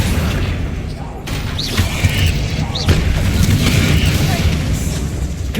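Bombarda blast spell in Hogwarts Legacy, a dense rumbling explosion with booming low end and mechanical clatter, continuous and loud with brief swooping magic effects over it.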